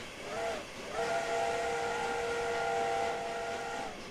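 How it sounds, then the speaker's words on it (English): The steam whistle of the 4472 Flying Scotsman locomotive in Train Simulator 2016 sounds a brief rising toot, then holds one long sustained chord for about three seconds, moderately loud over a soft hiss. "Absolutely wonderful whistle."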